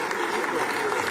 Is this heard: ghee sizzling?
no